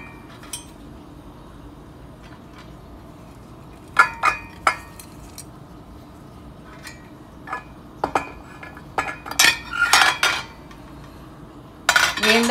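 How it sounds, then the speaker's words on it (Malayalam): Metal idli steamer pans being handled and set up in a kitchen, with sporadic clinks, taps and clatters of metal against metal, some near and sharp, separated by quiet pauses. "ഇനി നമുക്ക് ഇഡ്ലി പാത്രം വെക്കാം"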